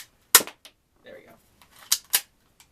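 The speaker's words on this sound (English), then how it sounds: "it's an airsoft gun. It works. Does exactly what it's supposed to." An airsoft gun fires a few sharp, dry snaps close by, spaced irregularly with quiet gaps, while a voice speaks briefly between the shots.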